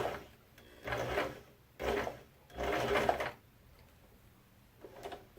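Sewing machine stitching a fabric hair scrunchie seam in short bursts, three clattering runs of the needle with pauses between, fairly close, ending with a brief softer burst.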